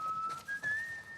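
A person whistles a short, faint tune of a few rising notes with brief breaks, alone and without speech, during play of The Last of Us Remastered.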